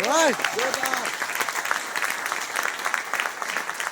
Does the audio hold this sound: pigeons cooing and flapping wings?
no